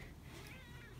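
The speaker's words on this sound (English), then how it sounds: "Baby kitty, were you locked in the bedroom?" A house cat found shut in a bedroom gives a meow, a short, fairly faint vocal cry against a steady indoor background hum.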